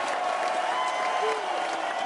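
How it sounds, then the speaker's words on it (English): Dense, continuous applause from a large crowd rolls on at steady loudness throughout, a broad wash of clapping with no breaks. "Thunderous applause."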